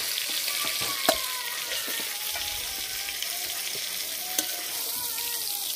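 Cauliflower pieces fry in oil until reddish-brown, a loud, continuous close-up sizzle with a couple of sharp pops and light stirring, no talk.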